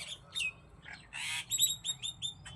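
Sparrows chirping sharply while grain is scattered for them, a handful of quick bright tweets and calls in short bursts, close and clear over a quiet background.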